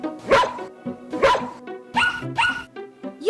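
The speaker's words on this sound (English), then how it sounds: "So dear dog, bark." Cartoon dog barking in an animated farm-animal story: several loud, close bow-wow barks come in quick pairs and bursts, with a higher yip at the end, standing alone without talk.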